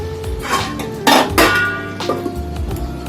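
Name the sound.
pot being covered with a lid while cooking fish gravy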